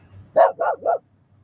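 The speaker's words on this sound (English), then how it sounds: "My dog's name is Sharpie" A dog barks three times in quick succession, close and loud, each bark short and sharp, followed by quiet.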